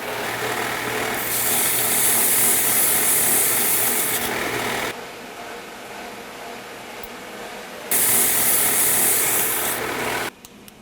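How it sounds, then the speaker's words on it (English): A power sander works a bass guitar body in the shop, a loud, steady rasping whir in long passes that drop away to a quieter hum and then start up again. "this is just a lot of back and forth to the sander"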